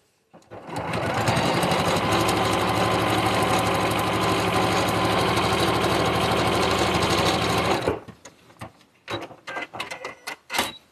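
Sewing machine stitching quilt fabric for a block-of-the-month quilt kit, a loud steady mechanical whir running continuously for about seven seconds before stopping, followed by scattered handling clicks and rustles.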